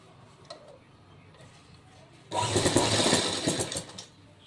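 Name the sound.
sewing machine stitching a folded strip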